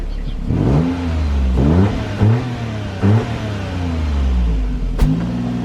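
A Daihatsu Charade engine revving through a modified exhaust fitted with a middle box in place of a back box, rising and falling in several loud, close bursts over a steady running note, without speech.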